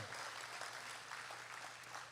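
Steady applause from a church congregation fills the whole clip, a dense wash of clapping at even loudness with no voices over it.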